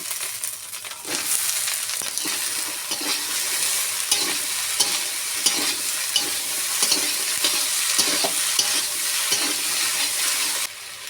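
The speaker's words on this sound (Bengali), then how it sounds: "জিরে বাটা মশলা কষা হয়ে গেছে এখন পোলট্রির লুচিগুলো দিয়ে" Cumin spice paste fries in a pan as luchis are added, giving a steady close sizzle with a stirring scrape and intermittent crackles throughout, loud and alone without voices.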